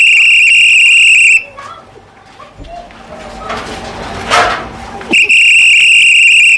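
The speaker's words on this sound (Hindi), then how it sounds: "सीटी बज रही है और घर घर से कूड़ा आ रहा है" Loud shrill whistle blown for door-to-door garbage collection in a street of Old Delhi, a long steady blast, then a pause filled with street noise and faint talk, then a second long blast.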